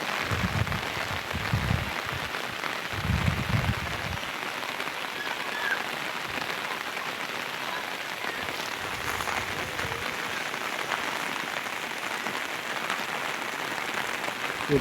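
Heavy rain pours at a campsite in Pancawati, a dense, steady hiss of drops drumming on surfaces, with a few deep thumps in the opening seconds and no voices.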